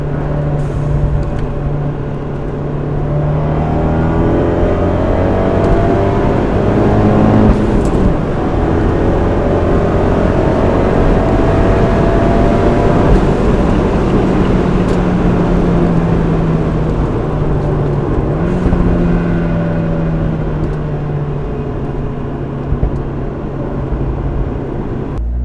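A Fiat 124 Spider Abarth driving under throttle, its engine droning loudly and steadily with pitch rising and falling through gear changes, heard from inside the car with no talking.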